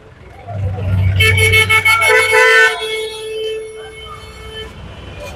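Busy traffic jam at lunchtime outside a crowded Kolkata market, with loud car horns honking in rapid repeated toots over a low engine rumble and street noise, voices around.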